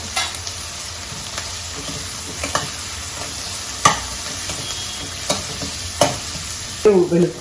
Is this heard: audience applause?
no